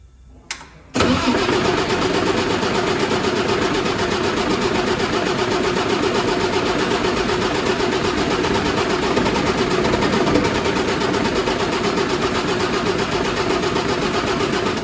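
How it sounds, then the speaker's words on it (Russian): After a moment of quiet, a Volvo FM truck's diesel engine cranks and roars to life on its first start after injector sleeve replacement, then settles into a loud, steady rumbling idle that continues throughout. "Пробуем мы произвести первый запуск двигателя"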